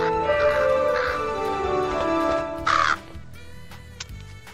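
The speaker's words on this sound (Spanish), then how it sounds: "Un cuervo trajo un mensaje para usted." Crow caws ring out in a cartoon scene, a loud harsh burst standing out over background music and sound effects, followed by quieter moments.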